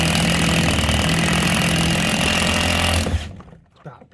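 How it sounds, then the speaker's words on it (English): Power drill boring through a wall with a blunt spade bit during plumbing work, a loud steady whirring drone for about three seconds that stops abruptly, leaving near silence. "So I'll just get the point of the spade bit through."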